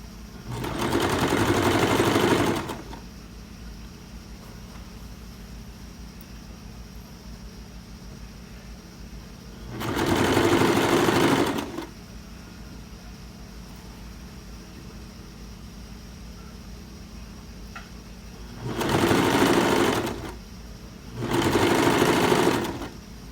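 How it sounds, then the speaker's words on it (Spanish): A sewing machine stitches a blouse seam at half a centimetre in three distinct bursts, a long run at the start, another about ten seconds in and two short runs near the end, with a quiet steady hum between them and no talking. "Cosemos solamente a medio centímetro."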